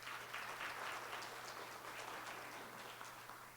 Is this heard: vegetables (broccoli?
no